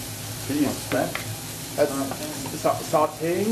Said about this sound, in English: So we're just going to be sauteing the onions now for a little bit